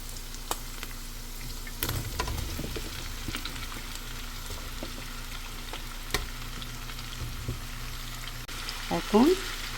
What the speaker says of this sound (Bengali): আমার চুলার আঁচটা বাড়ানোই আছে এই যে সবজিগুলো এখন ঢেলে দিব